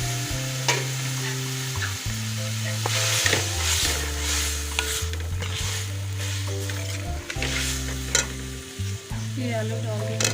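Cauliflower florets stirred and frying in masala for a dhaba-style aloo gobi, a steady close sizzle with repeated scraping stirs throughout and a low musical tone running underneath.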